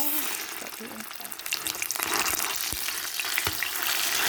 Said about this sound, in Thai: น้ำมันร้อนเสร็จแล้วเราก็ใส่พริกลงไปนะคะ